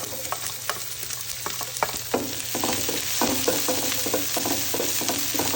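Garlic and onion sauté in a hot pan, a steady close sizzle broken by repeated scraping stirs and light utensil taps, growing busier and louder partway through; no voices.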